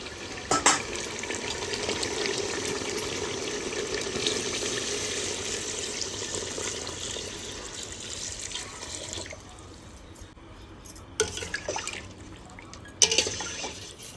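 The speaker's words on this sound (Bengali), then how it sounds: "এবার আমি জল দিয়ে দেবো" Water is poured steadily into a pot of cooking chicken for biryani, a continuous rushing pour that lasts several seconds. It then stops, followed by a few clanks of the pot, with no speech.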